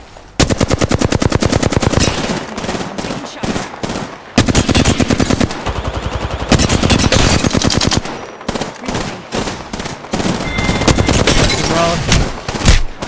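Loud automatic gunfire from Apex Legends in a ranked Kings Canyon match comes in several long, rapid bursts separated by brief gaps, close and dominant, with a voice talking under the shooting.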